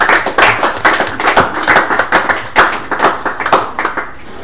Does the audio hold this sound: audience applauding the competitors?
yes